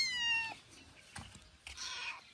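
A kitten injured after being run over by a car gives a couple of soft, thin meows close by, quiet and separated by short pauses, with no talk.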